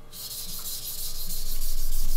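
A carbide kitchen knife scraping steadily over a magnesia whetstone wet with slurry, a continuous close rubbing hiss that builds slightly louder with a faint repeated stroke rhythm.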